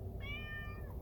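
Single drawn-out cat meow, fairly clear and moderately close, over a low background rumble.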